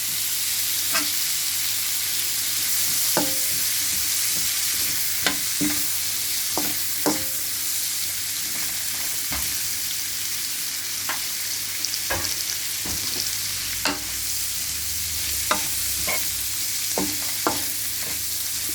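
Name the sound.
metal ladle stirring frying prawn, chicken and noodles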